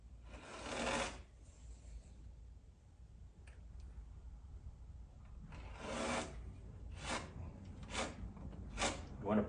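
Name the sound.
spot putty smeared across a 3D print with a card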